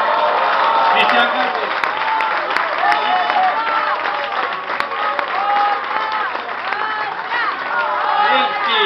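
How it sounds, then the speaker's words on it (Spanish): Audience applause and cheering for a performer at a cathedral opera event, a loud, sustained wash of clapping with whoops and voices from the crowd mixed in throughout. "Un gran aplauso para Maya Forge."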